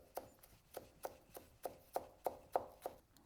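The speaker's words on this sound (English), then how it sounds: "The basil, we pick off the leaves and then we chop it off roughly." Rough chopping of fresh basil leaves with a knife on a cutting board, about ten crisp, evenly spaced taps, close and fairly quiet with no talking.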